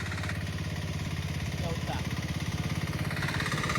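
A tractor engine runs in a muddy paddy field during rice planting in the Konkan region. It gives a steady, pulsing mid-pitched chug at close range, with people talking over it.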